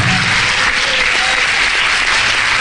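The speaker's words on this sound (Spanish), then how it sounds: "Denle un fuerte aplauso al Señor." A church congregation bursts into loud, dense applause, a continuous wash of clapping that stays at full strength throughout the short burst.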